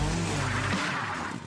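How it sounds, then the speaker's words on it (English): A race car roars past close by on a racetrack, its engine loud and then dropping in pitch as it moves away, with a brief tire squeal. "When the car comes closer, the pitch of the engine appears to get higher."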